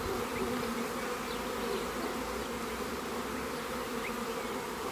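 Honey bees swarm around a beekeeper tending the hives, a dense, steady buzz hanging close and constant throughout, with occasional individual bees droning past; nobody speaks.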